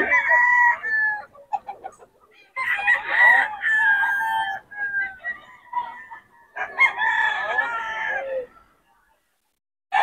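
Several roosters crow in turn at a crowded market, long rising calls coming close together, with chickens clucking in between.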